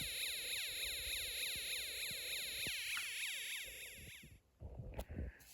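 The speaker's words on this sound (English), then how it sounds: "you hear a different sound effect, a police car siren" A fast, warbling electronic police siren tone from a Snap Circuits alarm integrated circuit sweeps up and down repeatedly, like a small toy police siren, then cuts off into a few soft clicks.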